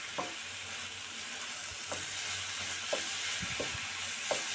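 A thick Gokul pithe mixture sizzles steadily in a pan while a spoon scrapes and stirs it, with a few distinct scraping knocks spaced through the steady frying hiss; no one speaks.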